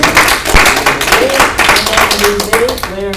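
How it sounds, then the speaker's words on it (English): A room full of people at a Columbia Cup finals game gives a player a dense round of applause, with a voice speaking over the clapping. "Let's give a round of applause for number"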